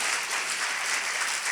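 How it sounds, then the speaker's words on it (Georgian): Church congregation applauding during a worship service, dense sustained clapping from a crowd, loud and even throughout the short stretch with no talk. "მოდი მივაგოთ ღმერთს მქუხარი აპლოდისმენტები."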